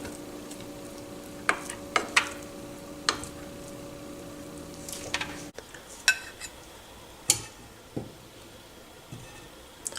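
A spoon stirs Persian rice in a pot, giving a few sharp scraping knocks and clinks against the metal at irregular intervals over a low steady background hum, with no talking.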